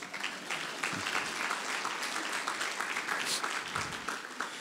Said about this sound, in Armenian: դե մա ծափարեք իր համար